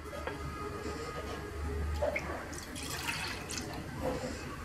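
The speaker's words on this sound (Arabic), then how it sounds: "غادي ناخد كاسرونة غادي ندير فيها الحليب" Cold milk pours into a saucepan in a home kitchen, a continuous, even liquid rush lasting several seconds, with a soft background murmur.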